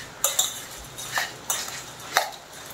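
A spoon stirring a dry bhel mixture of puffed rice and fine sev in a bowl, giving a few light scraping clinks at irregular intervals, close and fairly quiet with no talking.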